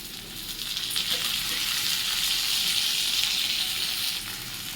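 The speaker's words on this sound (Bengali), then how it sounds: "পেঁয়াজটা মোটামুটি ভাজা হয়ে গেছে এরপরে কেটে রাখা টমেটোগুলো দিয়ে দেবো" Chopped tomatoes tip into a pan of frying onions, and a steady, close sizzle builds and holds for several seconds with no voices.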